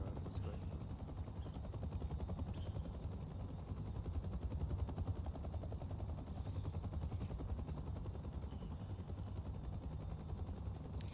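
A UH-1 Huey helicopter in the DCS flight simulator thumps steadily with a low, continuous rotor beat and engine drone, loud and close throughout, with no talk over it.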